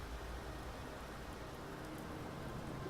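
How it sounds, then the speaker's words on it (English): Rain in a U-boat video game, a steady hiss of heavy rainfall with no breaks, alone and even throughout. "it's getting a bit darker now, and there's a fair bit of rain"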